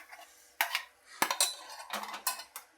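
Kanji porridge is served onto a plate: a few sparse metallic clinks and scrapes of a spoon against dishware, quiet and intermittent, with short gaps of near silence between the knocks.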